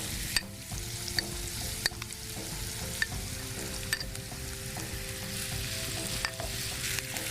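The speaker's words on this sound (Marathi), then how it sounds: "थोडंसं परतून घेतल्यावरती त्यात आपण दोन टोमॅटो घेतले चिरून तेही घालायचे" Chopped jackfruit, onions and tomatoes sautéing in a pan with a steady sizzle, with occasional sharp clinks of a spoon or spatula against the pan at irregular intervals; no talking.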